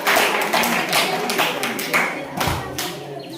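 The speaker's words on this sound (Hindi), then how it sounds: "जोरदार ताली होना चाहिए" An audience at a school quiz competition claps steadily for about three seconds, a dense patter of hands that slowly thins out toward the end.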